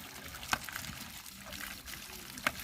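Water is scooped and poured in a traditional hill-tribe village, a soft splashing pour marked by two brief sharper scoop sounds, fairly faint over steady background noise.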